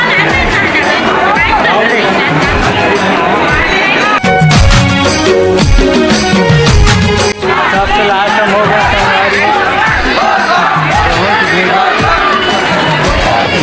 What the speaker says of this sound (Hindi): मंदिर यहाँ के भक्तवान के भीड़ लगे हैं। सब लाइन लगे हैं। बहुत ही भीड़ है।